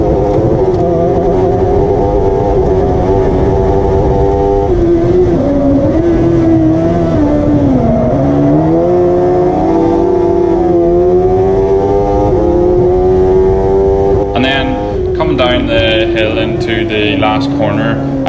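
Rallycross race cars at the Lydden Hill circuit, their engines droning loud and continuous with rising and falling pitch as they accelerate and brake through corners, steady throughout with a sharper burst of revving near the end.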